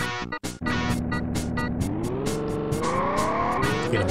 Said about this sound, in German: Mir ist das Motorengeräusch etwas laut.